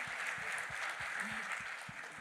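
Church congregation applauding, a dense steady wash of clapping from many hands, somewhat distant, with a low rhythmic thump underneath.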